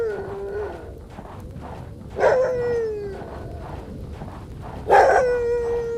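A dog barks and whimpers in an indie horror video game, with two strong distinct calls a few seconds apart, each trailing off into a whine, heard over a low continuous game ambience.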